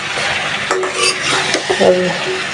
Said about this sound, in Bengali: মশলার সাথে পটল আলুটা ভালোভাবে কষাই নেব